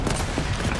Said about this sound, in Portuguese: Um tiro, um tiro.